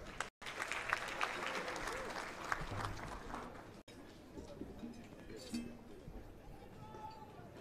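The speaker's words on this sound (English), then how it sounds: "Let's give them a round of applause." Applause from a crowd at an outdoor celebration of Zambia's independence anniversary, welcoming the UPND choir. The clapping is dense and fairly loud at first, then thins and drops lower, with voices murmuring underneath.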